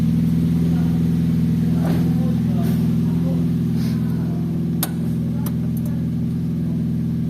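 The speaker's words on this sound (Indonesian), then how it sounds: "Lalu starter mobil." A car engine idles with a steady low rumble right after being started during a routine service check, continuous and close with small clicks and knocks on top, no voices heard.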